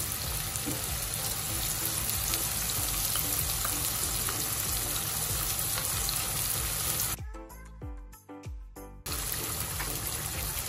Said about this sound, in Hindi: अभी हम इसमें डाल देते हैं लहसुन भी।